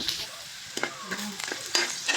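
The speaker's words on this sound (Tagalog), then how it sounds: "Isa-gisa lang ito. Itong ahos at kabumbay." Garlic and onion sauté in a hot pan with a steady sizzle, broken by several soft scrapes and taps of a stirring utensil, close and fairly quiet, with no talking.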